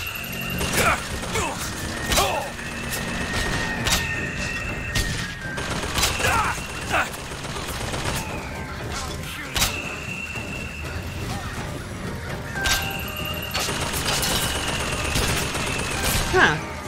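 A volley gun fires in the video game Bioshock Infinite, letting off repeated sharp bursts and blasts mixed with mechanical in-game clatter. A player talks between the shots.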